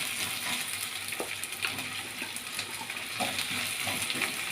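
Chopped onions, shallots, green chillies and curry leaves sauté in a pan for a Kerala mutton curry, with a dense, steady crackling sizzle and repeated soft scrapes of stirring throughout.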